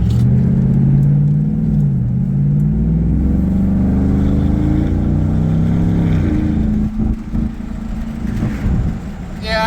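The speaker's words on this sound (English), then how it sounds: "It's because it's just coming from the stop and then accelerating and then braking and then accelerating." A 2022 GMC Sierra AT4X pickup fitted with an S&B cold air intake pulls away from a stop, its engine note rising and falling steadily and close by as it accelerates, eases off for braking, then accelerates again.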